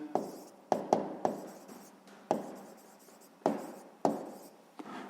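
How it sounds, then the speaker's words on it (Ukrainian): A pen writes by hand on paper as a sixth-grade maths answer is noted down: a series of distinct scratchy strokes, each starting sharply and then trailing off, close and clear with no talking. "записуємо відповідь"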